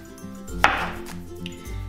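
A knife slices Organixx zucchini into quarter-inch rounds on a cutting board, giving one sharp close cut with a few soft taps around it and no talking.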